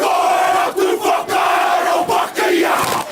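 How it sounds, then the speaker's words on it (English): A crowd at a union protest performs the haka, many voices chanting and shouting in rhythmic, forceful bursts with short breaks between phrases, loud and close. "A performance of the haka"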